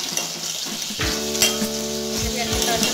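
Chopped tomato and grated coconut hit hot oil in a pan, a strong steady sizzle that swells after the first second, with a couple of utensil knocks and stirring clatters, no speech.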